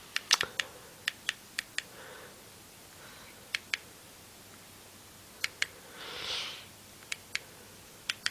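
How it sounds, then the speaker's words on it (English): Someone taps on a computer keyboard while navigating a retro gaming TV box menu: sparse, crisp, close keystrokes in small clusters, with a soft breathy sound in between. "I'm using an actual keyboard here. So just escape on your keyboard."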